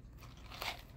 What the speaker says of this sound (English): He's gonna keep chewing it with a nasty face.